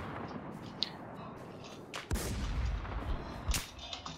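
Shots from a VSS Vintorez suppressed sniper rifle in the survival shooter Infestation The New Z: a few sharp cracks over a steady rumbling background, with a stronger blast midway and another shortly after.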